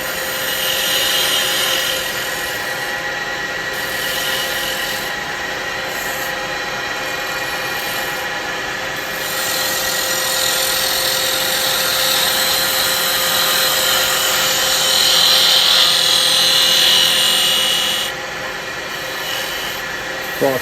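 A wood lathe spins as a carbide chisel roughs down a bud vase blank, making a continuous loud motor hum with a steady scraping, rubbing cut that swells and eases over a long stretch, with no voice.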